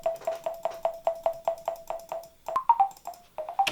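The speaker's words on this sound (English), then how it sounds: "So it's literally just like a percussion noise." An original percussion sample plays back in FL Studio as a rapid, evenly spaced series of short pitched taps. The pattern shifts to a few higher, irregular hits near the end, clean and dry with no voice.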